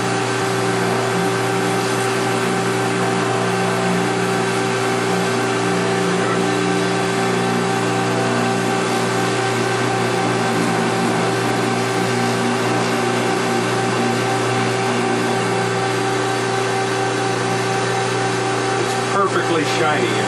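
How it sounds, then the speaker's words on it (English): A jewelry polishing motor spins steadily while a platinum ring is buffed with fine microfiber, producing a constant loud whirring hum that barely varies for the whole stretch. "and with the motor still running"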